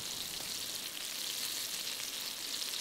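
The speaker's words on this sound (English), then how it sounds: "that's sizzling away and cooking nicely" Chicken fried steak sizzles in a pan on a firebox stove, giving off a steady, close, crackling hiss that runs unbroken with no voices.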